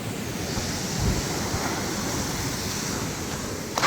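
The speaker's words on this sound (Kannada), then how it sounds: "ಒಂದು ತಪ್ಪಿನ ಎರಡು ಅಲೆಗಳು ಮಾತ್ರ ಜೋರಾಗಿ ಬರುತ್ತೆ, ಅದಾದಮೇಲೆ ಕೆಲವೊಂದು ಅಲೆ ಕಡಿಮೆ ಬರುತ್ತೆ." Sea waves breaking at Bekal Fort beach make a steady, close surf roar with a slight swell near the start and a short sharper splash at the very end.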